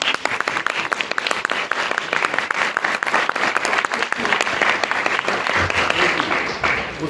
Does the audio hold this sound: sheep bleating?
no